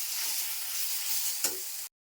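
Leafy greens sautéing in oil with a steady, close, broadband sizzle that holds evenly for nearly two seconds, broken by one brief louder crackle before it stops abruptly.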